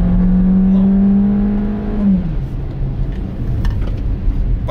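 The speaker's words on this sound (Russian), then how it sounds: "Вот старт с места, с педалью газа в полу." A Geely Atlas accelerating hard from a standstill roars loudly at steady high revs, then the pitch drops as it shifts, followed by continued rumbling engine and road noise.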